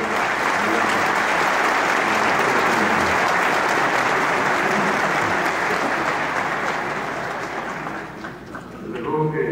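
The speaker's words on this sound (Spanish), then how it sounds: "También yo pido un aplauso para ustedes." Audience at a workshop meeting bursts into loud, sustained applause that fills the hall, then thins out near the end as a voice begins to speak.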